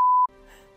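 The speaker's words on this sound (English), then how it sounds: "Something else which is going to be beeped out." A single steady censor beep lasts about a quarter second, covering a swear word. It cuts off abruptly, leaving quiet room tone.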